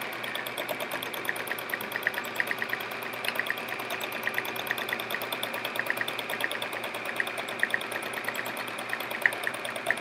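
A sewing machine runs steadily throughout free motion quilting, with a fast, even mechanical chatter of needle strokes and a low motor hum, close and alone without talk.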